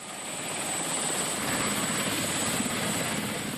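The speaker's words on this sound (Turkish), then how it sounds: "Eskişehir'den havalanan askeri helikopter ekiplerin bulunduğu yakın bir noktaya geldi." A military helicopter arrives near rescue teams in the mountains at Uludağ, its rotor and engine roar steady and loud throughout, with a constant whine riding on top.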